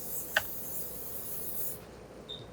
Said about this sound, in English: I'm going to spray it a little bit too.